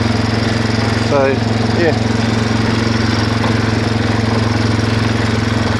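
A Suzuki 4x4 400 cc quad bike engine idles in a steady, close mechanical drone throughout, with a brief spoken remark partway through.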